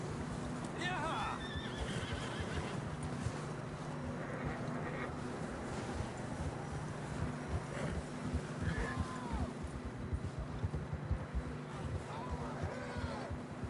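Horses whinny and neigh repeatedly over steady clip-clopping hooves in Red Dead Redemption 2, with voices talking throughout and wind in the background.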